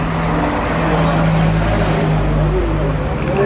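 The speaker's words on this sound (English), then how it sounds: "The bus came to our rescue." A bus pulls in to pick up stranded travellers heading for a ferry near the Thailand–Malaysia border, its engine a steady, loud rumble running throughout, with a faint voice underneath.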